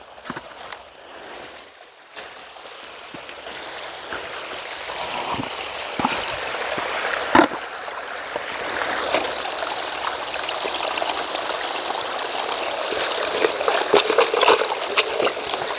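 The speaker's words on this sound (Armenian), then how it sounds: "ես կանանչեղեն եմ մի հատ լվանը" Running water pours steadily, splashing and trickling, with intermittent rustling and soft knocks as leafy greens are rinsed under the flow.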